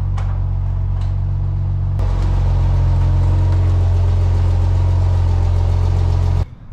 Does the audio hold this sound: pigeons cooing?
no